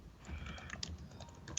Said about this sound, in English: Marcus is hastily typing away to see if he can find it.